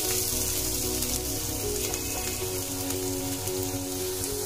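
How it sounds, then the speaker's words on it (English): Chopped onions hit a pan of frying garlic with a dense, crackling sizzle like rain on a surface, continuous and close, with no voices. "And now adding the chopped onions."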